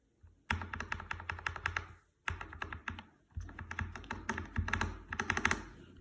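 Keystrokes tap on a lubed mechanical keyboard switch fitted under the shift key, heard in three bursts of quick, crisp clacks separated by short pauses.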